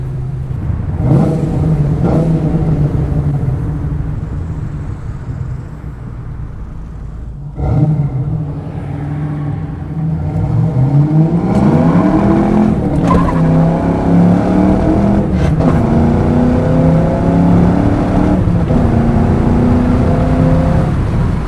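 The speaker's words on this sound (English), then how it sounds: "So a little heavier acceleration and it really pulls well." A teal 1993 Ford Mustang Cobra with 49K miles accelerates hard on a test drive. Its loud, close engine note climbs steadily, drops at the gear changes, then pulls upward again, with no talking.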